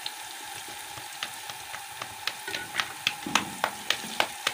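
Green chillies sizzling in hot oil with onion, ginger and garlic, a steady close fry with a run of sharp stir clicks and scrapes against the pan in the second half; no talking.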